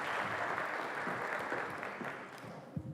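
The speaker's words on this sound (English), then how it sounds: "So I'm going to give you guys a round of applause, okay?" A university orientation audience applauding its staff, a fairly faint, dense patter of clapping from a hall crowd that gradually thins and fades.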